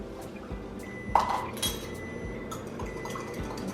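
Milk and sugar being mixed in a bowl for cinnamon roll dough, heard as faint clinks and light scraping of a utensil against the dish, with a soft liquid swish underneath and a couple of sharper taps.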